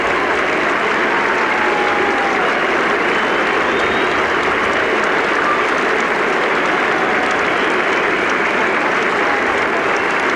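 Cricket crowd at Headingley applauding, a dense, loud, sustained clatter of clapping that fills the whole stretch without a break.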